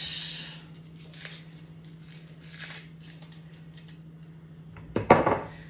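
A knife scrapes and nicks at an onion being peeled in a home kitchen, with a few faint soft scratches early on, then a sharper cluster of cutting clicks near the end over a low steady hum.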